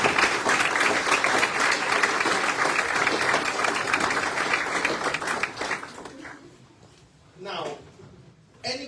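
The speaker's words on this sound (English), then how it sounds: "Please, I would like you to help me put a big round of applause to this." An audience breaks into steady, full applause that holds for about six seconds and then fades quickly. Scattered claps and a voice follow in the quieter tail.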